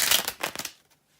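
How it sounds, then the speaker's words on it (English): Tarot cards are shuffled in a brief close burst of papery riffling that trails off into near silence within a second. "just bear with me a second, guys, to shuffle the tarot cards."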